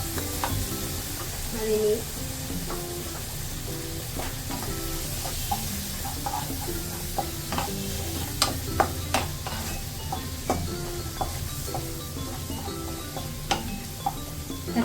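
Three chopped tomatoes sizzle and fry in a pan of butter paneer base, a steady hiss punctuated by scattered clicks and scrapes of stirring, with a brief word spoken over it.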